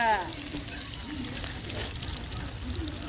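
Chopped onion dropped into hot oil with cumin over a wood-fired stove, giving an immediate loud, continuous sizzle and crackle that holds steady throughout, with faint voices nearby.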